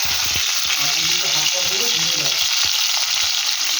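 Cauliflower frying in a pan with cumin seeds, a loud dense sizzle and crackle filling the whole moment, with spatula scrapes and stirring knocks underneath, no voices.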